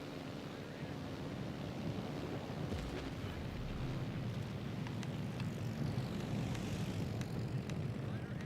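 Fighter aircraft fly in a naval battle video game, a continuous engine drone that stays steady and fairly loud for the whole stretch, with faint clicks on top.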